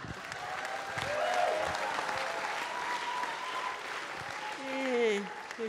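Audience applause rises and holds steady for several seconds at an evening event, a crowd clapping at moderate distance with a few faint voices mixed in.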